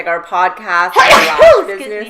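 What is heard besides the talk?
sneeze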